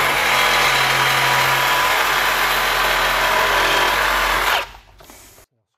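A power tool cutting through a plumbing pipe frozen solid with liquid nitrogen, giving a loud steady high-pitched whining grind for several seconds before it abruptly cuts off into near silence, with no talking.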